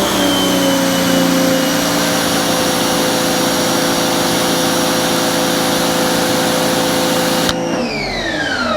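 A Giraffe Tools wall-mounted electric pressure washer, a 2200 PSI Grandfalls model rated 2.1 GPM, runs loud and steady with a constant motor whine and spraying hiss, then its pitch drops and winds down near the end.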